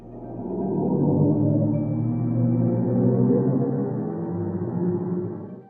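A deep, eerie drone imitating the sound of a black hole swells and hums steadily with low resonant tones, like a distant whale-like moan, fading slowly toward the end.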